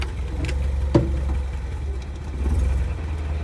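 An International Scout 80 idles in low gear with a steady, rough low rumble that holds throughout, one brief knock rising above it.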